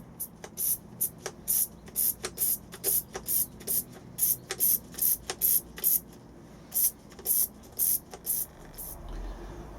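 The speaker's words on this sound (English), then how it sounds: "give it a light misting over with a spray bottle, just to make sure that the soil is damp" A spray bottle mists the soil on an allotment bed before carrot seeds are sown, giving about twenty quick, crisp squirts in a steady irregular rhythm, close and clear with no talking.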